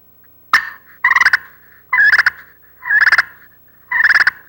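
Loud turkey gobbles imitated on a mouth call, four rapid rattling bursts in a row after a short opening yelp, with no background sound.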